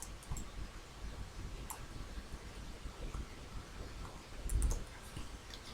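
Computer mouse clicks while drawing and copying shapes in PowerPoint, a scattering of faint, light clicks against a soft steady background hiss, with no voices.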